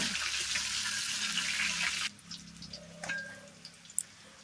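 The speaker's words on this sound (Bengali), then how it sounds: "টমেটো এখন দিয়ে এটাকে সুন্দরভাবে নেড়ে চেড়ে নেব" Chopped tomato and bay leaves sizzle in hot oil in a pan while being stirred. The frying hiss is steady and fairly close for about two seconds, then drops away to faint scattered clinks.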